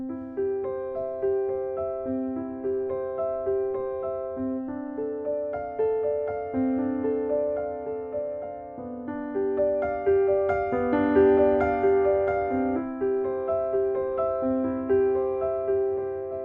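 A piano plays the opening four measures of J.S. Bach's Prelude in C, with steady, flowing broken-chord arpeggios that repeat in an even pattern, clear and moderately loud throughout, with no talking.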